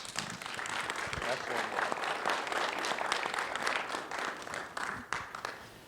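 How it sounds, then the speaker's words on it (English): An audience applauds newly appointed ranking officers at a police explorer graduation ceremony, the steady clapping continuing throughout with voices mixed in. "Round of applause for these fine ranking officers"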